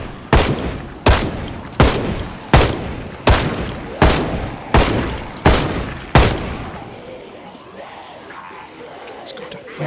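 Eight sharp gunshots from a firearm in the zombie survival game Project Zomboid crack at a steady, evenly spaced rhythm, each with a short decaying tail, followed by a few seconds of quieter clicking and low background sound.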